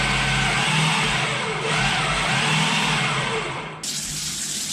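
A food processor blends flour and fat for apple pie pastry, a loud, steady motor whir that runs continuously and shifts in pitch near the end, with no talking.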